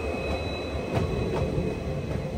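Goods train hauled by three locomotives passing in heavy rain, a steady rumbling roll with faint wheel squeal and rhythmic clacks, heard from some distance without talk.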